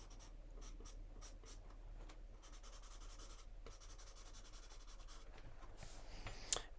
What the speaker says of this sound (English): white pastel pencil, just kind of defining some of these little waves in a very soft, translucent way of sorts